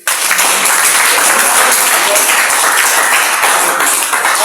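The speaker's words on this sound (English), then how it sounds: "Clap for yourself." A chemistry class claps steadily and loudly for several seconds.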